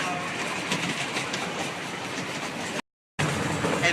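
Amusement park train ride rolling along its rails, a steady rumbling clatter throughout with a brief dropout near the end, no talk over it.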